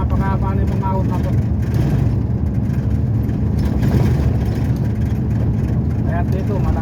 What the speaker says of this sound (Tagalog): Kaya dito malakas na diesel yung truck dahil gawa ng napakahaba yung ahon, napakataas.